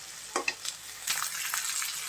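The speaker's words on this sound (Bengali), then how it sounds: "এখন একটু তেলে ভালো করে ভাজি করে নিতে হবে" Crushed raw peanuts frying in oil in a home village kitchen, a steady close sizzle with a few sharp stirring scrapes and crackles, no voices.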